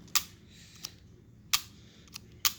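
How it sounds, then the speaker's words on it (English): A Graflex Speed Graphic press camera's shutter cocked and fired at 1/100th second: several sharp, close mechanical clicks and snaps spaced irregularly, the loudest pairs clearly separated, over faint room hiss. "you push the button and it sends electricity down here and it pulls your shutter right there"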